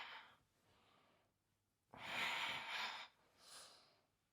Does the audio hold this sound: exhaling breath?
yes